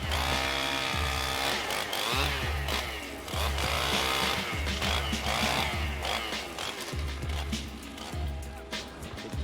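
A chainsaw roars loudly and close, its engine surging and dipping repeatedly as it cuts into a tree; a faint voice is occasionally audible underneath.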